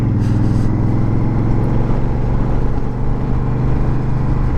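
A Honda Fury motorcycle engine drones loud and steady at low pitch as it rides along a narrow road, with a downshift in the gearbox; continuous close engine rumble with no talk.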